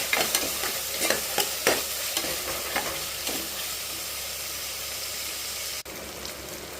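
Tomatoes sautéing in a pan for chicken biryani, a loud close sizzle with repeated sharp scraping strokes of a stirring spoon early on, then steady frying alone.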